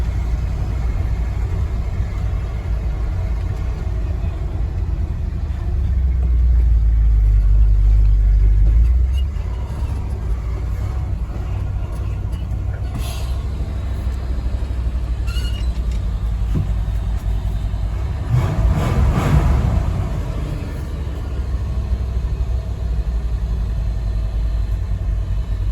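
Ford F-250 truck with a reportedly locked-up motor, running steadily as it warms up: a continuous close engine rumble with a heavier low swell early on and a brief rise in revs later.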